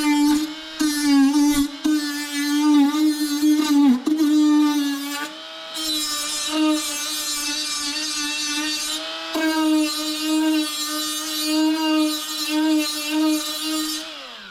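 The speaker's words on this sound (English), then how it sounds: "swapped out the sanding disc for a less aggressive paint stripping pad on the angle grinder and set about clearing off any leftover gasket material" An angle grinder fitted with a paint stripping pad works over the fiberglass firewall of a C3 Corvette, clearing leftover gasket material. It gives a loud, steady high-pitched whine with brief dips as the pad is lifted and pressed back down.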